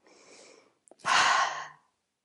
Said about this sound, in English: As you exhale, exhale out through the mouth and allow the shoulders to drop down.